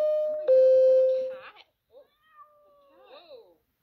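A cat lets out a long, loud, drawn-out meow, followed by a few shorter and softer meows with quiet pauses between them.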